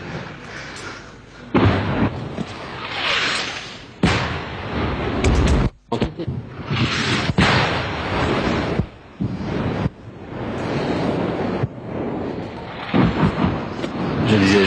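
Distant French artillery shells land during the colonial-era war, heavy booming impacts and rumbling blasts that repeat every few seconds over a continuous roar.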